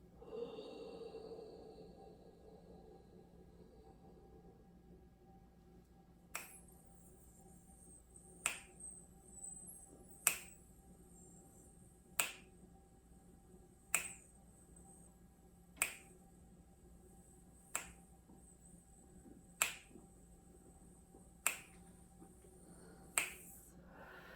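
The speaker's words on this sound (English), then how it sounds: "I'm gonna snap my fingers" Sharp finger snaps during a vocal lesson breathing exercise, about ten crisp, close snaps spaced roughly two seconds apart in an otherwise quiet room.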